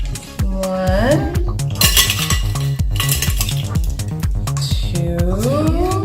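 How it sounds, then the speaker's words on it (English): A measuring teaspoon clinks repeatedly against a mixing bowl while baking powder is counted out for a home-made cake, a series of sharp metallic taps and scrapes with ringing tones, close and fairly loud. "we're going to add 2½ teaspoons of it"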